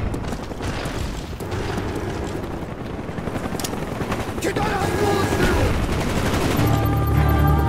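A Cobra attack helicopter in the Call of Duty Black Ops multiplayer game, with a loud continuous rotor roar mixed with bursts of gunfire and impacts throughout a busy battle.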